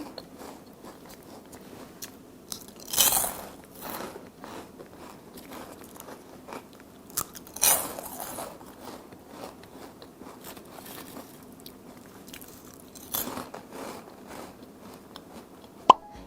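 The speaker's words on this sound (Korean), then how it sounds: "그럼 이 거북칩이 얼마나 바삭한지 한번 먹어보도록 하겠습니다" Crunchy bites into a homemade crispy four-layer turtle chip, a few sharp crackling crunches spaced seconds apart with quiet chewing between, close and clear with no talk.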